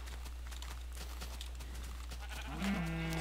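Near the end, a Minecraft sheep gives one short bleat, rising out of low game ambience and a steady hum.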